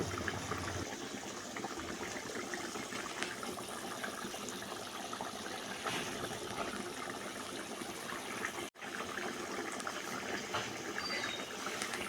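Paneer kofta curry simmering in a pot without onion or garlic, giving a steady faint bubbling and watery hiss that continues throughout, close and unbroken except for one brief dropout, with no talking.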